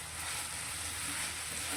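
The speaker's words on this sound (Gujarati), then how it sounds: "તો બટેકા અને પૌવા આપણા થોડા સોફ્ટ થાય ત્યાં સુધી તેને સાતળવાના છે" Potatoes and rice flakes (poha) sauté in a pan, giving a soft, steady sizzle that holds evenly from start to finish with no talking.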